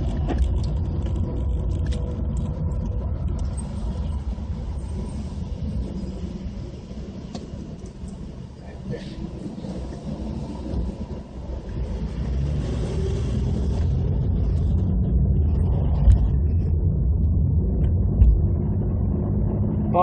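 A car driving over a bridge, heard from inside as a steady road rumble and engine drone that grows a little louder toward the end, with no talking.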